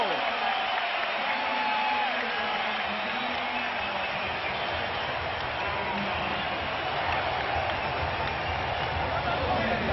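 Basketball arena crowd at a Cavs playoff game in Boston, a dense continuous roar of many voices that stays steady throughout, with a commentator speaking over it.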